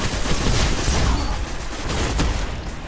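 Rapid gunfire from weapons in the video game Destiny, a dense, loud continuous barrage of shots with no talk.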